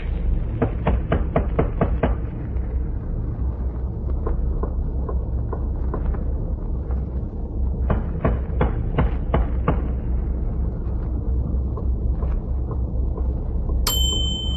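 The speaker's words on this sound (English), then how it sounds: "I'll tap on the hatch." Metallic knocks on a submarine bunker hatch in a radio drama, struck in quick bursts of four to six taps separated by pauses over a low rumbling background, ending with a bright ringing tone.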